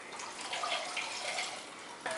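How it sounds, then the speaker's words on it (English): Hot water poured from a cup into molasses cake batter in a kitchen, a steady close splashing trickle lasting about two seconds. "now we're going to add a cup of hot water"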